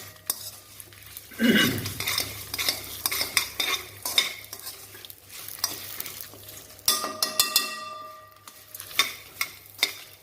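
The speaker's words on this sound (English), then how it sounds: "Okay, now I have added the curry leaves and the coconuts, and I'm going to roast it." Curry leaves and grated coconut roasting in a pan for sambar, stirred with a utensil that scrapes and clinks against the metal at close range. A brief burst of sizzling comes near the start, and irregular knocks and scrapes continue throughout.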